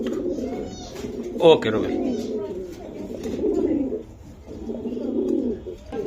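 Racing pigeons coo in steady low bursts near a loft, the soft throaty calls repeating over several seconds while someone speaks briefly over them.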